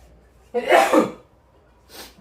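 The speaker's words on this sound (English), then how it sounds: "Oh, the yuzu powder made me sneeze." A single sharp sneeze triggered by yuzu powder at a noodle dinner, loud and close, followed by a fainter breathy sniff.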